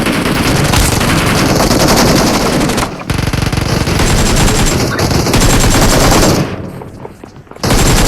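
Sustained automatic gunfire from the video game PUBG Mobile on the Erangel map, loud and continuous bursts of rapid shots with a short break near three seconds and a quieter lull near the end.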